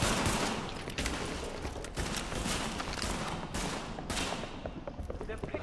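Gunfire in Tom Clancy's The Division video game, a dense, continuous stream of loud shots with a few sharper cracks throughout. Voices are heard in the mix.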